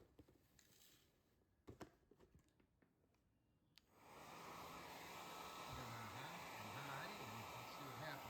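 After a few quiet handling knocks, a hair dryer used to loosen an old price tag switches on and runs as a loud, steady whooshing roar up close, with a slight wavering hum beneath.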